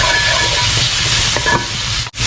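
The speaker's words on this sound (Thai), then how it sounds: "คั่วซ้ำเพื่อออกสีเลยฮะ" Minced pork and chili paste stir-fry in a hot wok, a loud continuous sizzle with scraping stirs and a brief sharp break near the end.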